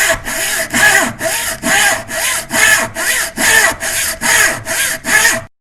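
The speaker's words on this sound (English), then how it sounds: "sawing sound" Rhythmic hand sawing through a wooden log, about twelve steady back-and-forth strokes, close and loud, with no talking.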